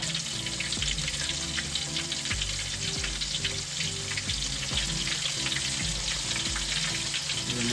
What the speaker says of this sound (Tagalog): nagpiprito na si Papa Chin ng manok